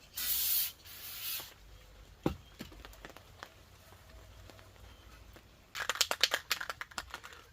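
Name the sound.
spray painting with barbecue paint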